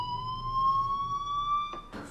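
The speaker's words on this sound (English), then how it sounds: "do you hear that fire alarm? That means you should be outside." A fire alarm rings in the video game Life Is Strange, a steady electronic tone holding for about two seconds before breaking off, followed by brief noisy bursts.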